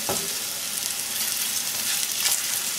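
Sliced lotus root sautés in a cast iron pan and a stainless steel pan, giving a steady, close, loud sizzle that fills the whole stretch with no talking.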